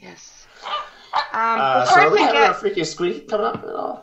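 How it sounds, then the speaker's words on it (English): A puppy barks and yips in the background, its high, excited calls rising and falling while people talk over it in the foreground. "I'm sorry about the puppy barking in the background"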